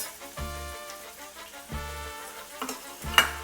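Onions roast in a pan while cooking chicken fry, giving a soft, continuous crackling sizzle broken by three louder scraping bursts as they are stirred, heard up close.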